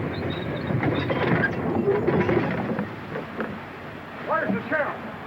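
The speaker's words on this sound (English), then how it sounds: "Don't that train make enough noise?" A steam-era train rumbles and clatters nearby, with a voice speaking over the noise at the start and a brief squealing tone toward the end.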